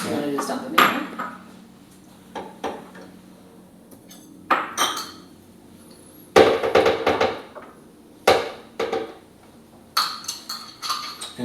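Pre-measured ingredients, including dairy-free probiotic yogurt and tiger nut flour, dumped into a blender, giving a string of irregular clinks, clunks and rattles against the jar with quiet gaps between them.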